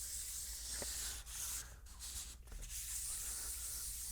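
Wet sandpaper rubs over an epoxy chip repair on a carbon fiber build surface, a soft steady scratchy hiss with a few quick back-and-forth strokes and brief dips, close and quiet.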